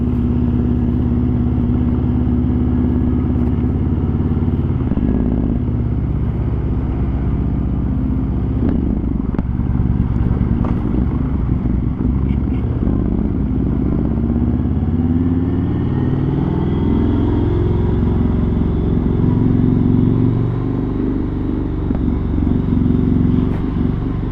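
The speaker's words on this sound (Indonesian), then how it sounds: "Persis suaranya Harley Davidson guys." A first-generation Yamaha MT-01 with an Akrapovic exhaust rumbles on the road, its deep, loping engine note rising and falling through gear changes for a sustained stretch, loud and near, with wind noise mixed in.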